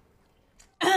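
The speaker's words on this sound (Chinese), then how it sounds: "你咳嗽什么呀？" A single short throat-clearing cough comes abruptly and close at the end of a quiet indoor moment, preceded by a faint breath.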